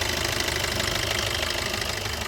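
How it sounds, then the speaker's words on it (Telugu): A 2016 Maruti Swift Dzire VDI diesel engine idles with the bonnet area close by, giving a loud, steady, rough clattering drone with a fast, even knock and no talk. "ఇంజన్ సౌండ్ ఈ విధంగా వస్తుందండి."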